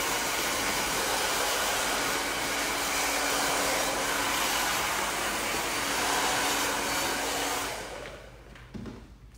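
A hair dryer roars steadily at close range while power-drying a layered bob, a loud continuous airy blast that cuts off near the end, leaving a few faint handling sounds.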